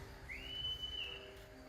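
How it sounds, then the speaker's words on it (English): A clear, sustained whistle rings out at a large cyber-security convention gathering in an arena, a single rising then steady tone lasting about a second over the hum of the room. "I heard a whistle somewhere"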